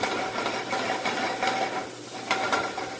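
Minced onion and garlic sautéing in warm oil in a single pan, a steady close sizzle with soft scraping and stirring strokes over three seconds, no voices.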